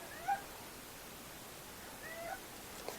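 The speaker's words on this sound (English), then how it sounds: "That's Odin. He's not a shop cat, but he is a shop cat." A house cat meows quietly in a home vehicle workshop, giving two short, faint calls a couple of seconds apart over a low, steady background hiss.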